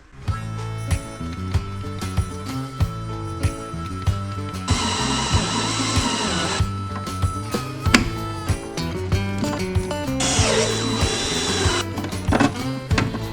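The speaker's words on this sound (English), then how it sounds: "now we need to drill the holes for these glands" A power drill whines in two bursts while drilling holes for cable glands in a box, against a backdrop of steady rhythmic clatter and tapping, close and fairly loud, with no voices.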